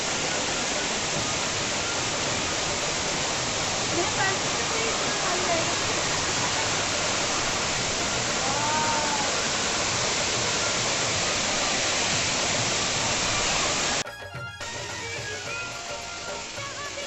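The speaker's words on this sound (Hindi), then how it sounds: "यही वह स्थान है जहाँ पर गुफा का द्वार खत्म होता दिखता है और नदी निकलती दिखती है" A river rushes out of a cave mouth at the Bhadra Kali temple near Bageshwar, a steady, loud broadband roar that fills the scene and dips briefly near the end.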